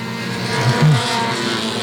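Race cars at Sauble Speedway on a short oval, engines droning loud and steady with a brief rising surge as one car closes and passes nearby.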